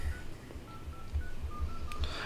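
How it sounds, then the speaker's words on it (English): Dialing tones from the keypad of a Samsung Galaxy A54 smartphone as a phone number is entered. About eight short, evenly spaced beeps play over a steady background hum. "that will allow you to type in the number of the person you want to call"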